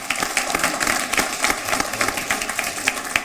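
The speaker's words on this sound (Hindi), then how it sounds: "एक बार तालियां वीना सागर के लिए" Audience applause for a poet at a poetry contest held at the Maha Kumbh in Prayagraj: a steady, dense wash of many hands clapping, moderately loud and continuous, with no talking.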